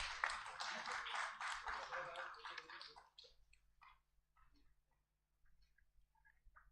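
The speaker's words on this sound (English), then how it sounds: "Let's have a big round of applause for all of these IPs." Applause from a convention audience of insolvency professionals, a dense burst of clapping for about three seconds that thins into scattered, sparse claps and quiet room tone.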